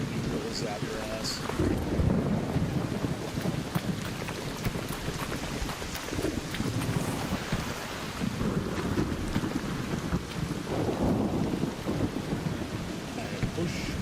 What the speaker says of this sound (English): I do also love how the lightning is basically an anti-camping system.